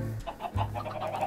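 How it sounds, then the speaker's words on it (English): Chickens in the Minecraft video game cluck in a quick run of short calls, close and clear with no talk over them. "I got chickens running a mess"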